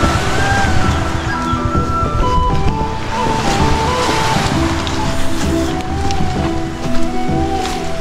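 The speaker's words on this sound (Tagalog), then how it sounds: "So ito na yung karagatan." Ocean waves rolling and washing ashore on the coast of San Fernando, Camarines Sur, under heavy wind rumble, a steady roaring wash with faint voices in the background.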